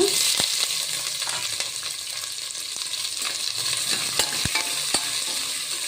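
Sliced onions and curry leaves fry in a pan, giving a continuous bright sizzle broken by a few sharp clicks and scrapes of a stirring spoon, close and fairly loud.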